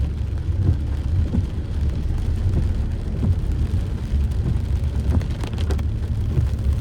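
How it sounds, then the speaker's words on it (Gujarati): Heavy first monsoon rain falling on a main road near Bodeli, Gujarat, with vehicles passing: a continuous, loud, dense wash of rain and low traffic rumble, with no voices. "આવો વરસાદ પડે છે"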